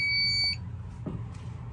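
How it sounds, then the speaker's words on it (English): A fire alarm panel beeps with a steady electronic tone for about half a second as a monitor module goes into alarm, then the sound cuts off into quiet room noise. "It's a monitor module. See, it goes into alarm immediately."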